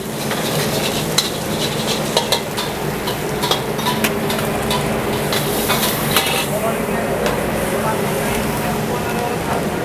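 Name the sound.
stir-frying nasi goreng kemangi with chicken and fish balls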